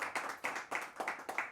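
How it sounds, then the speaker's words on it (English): Audience clapping to welcome the Maple Valley team at a high school quiz bowl match, a short burst of applause rising in several distinct swells over about a second and a half. "Give them a round of applause."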